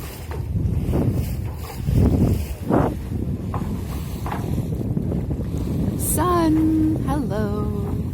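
Wind buffets a sailboat on an open-water sailing day, a steady loud rush of wind noise with a voice talking over it.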